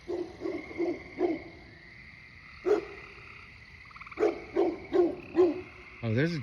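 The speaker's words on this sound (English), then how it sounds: "Oh, there's a tree frog right over here." A tree frog croaks at night in a series of loud, evenly spaced pulsing calls, some paired and others in quick runs, close by against a quieter chorus of distant night frogs.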